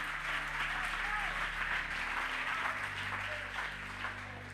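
A church congregation applauding, a steady wash of clapping that holds at an even level and fades slightly at the end, with a low hum underneath.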